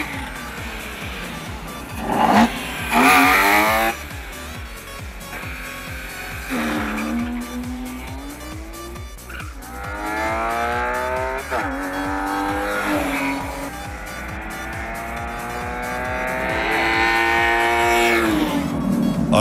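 A BMW E36 3 Series compact with a tuned 3-litre engine makes a drag racing run, the engine revving hard and climbing through several gear changes, loud and close, with brief tire squeal and a voice talking over it.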